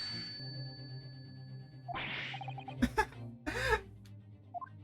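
Over soft, sustained music in The Great Ace Attorney, a character gives a couple of short, rough coughs in quick succession.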